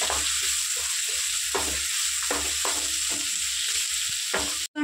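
Onions, sliced thin, frying in a pan as a base for Andhra-style prawn curry, giving a steady close sizzle with soft intermittent stirring scrapes throughout and no talking.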